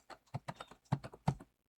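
Keys pressed on a computer keyboard while entering data into accounting software: a quick run of about seven close, crisp taps in an uneven rhythm, ending in a single final click.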